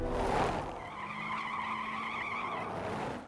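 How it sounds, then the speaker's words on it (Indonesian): A speeding car overtakes on a dark, unlit road, its tires squealing and engine whining as a loud, sustained sweep of about three seconds with no voices. "tiba-tiba mereka disalip oleh mobil yang sedang ngebut"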